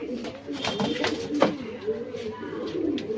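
Pigeons coo in low, rolling, overlapping calls that run steadily through the whole stretch, close by and moderately loud, with faint sharper chirps and bits of background noise, at a loft of champion Lokhande pigeons kept by a fancier.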